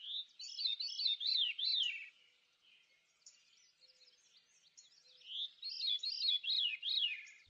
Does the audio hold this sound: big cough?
no